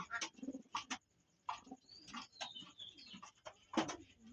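A pair of golden pigeons cooing in a home loft, soft repeated coos in short bursts with quiet gaps, close and faint, a few brief chirps mixed in.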